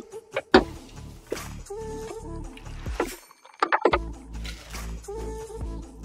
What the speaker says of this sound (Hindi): मैं बोनेट ओपन कर देता हूँ।